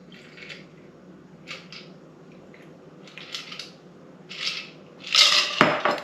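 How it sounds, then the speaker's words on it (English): A stirred Sazerac cocktail is strained from a mixing glass into a serving glass, heard as soft clinks of ice and metal strainer against glass in separate short bursts, growing louder with a sharp chink at the end. "Strain into your serving glass."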